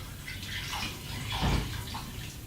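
Half a cup of water pours steadily into a blender jar, a close hollow splashing stream that swells briefly midway.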